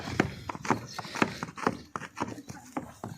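Hooves of a white Sindhi-breed horse clip-clop in a steady, fairly quick rhythm, a dozen or so distinct strikes sounding moderately close and a little muffled, with no talking over them.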